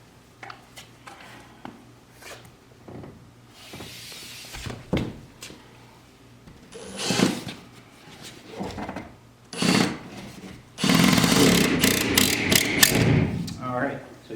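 Screws are driven into drywall with a power driver, heard as several short whirring and grinding bursts close by, mixed with handling rustle and scraping of the board.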